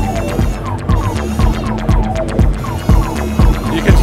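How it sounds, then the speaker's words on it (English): An overdriven bass drum sample plays on a Dasz Alex multitrack music production system, pounding loudly in a steady pulse of about two hits per second, each thump distorted and meaty over a continuous low drone. "now this is a sample of bass drum"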